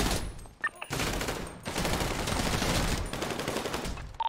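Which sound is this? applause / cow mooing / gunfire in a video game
gunfire in a video game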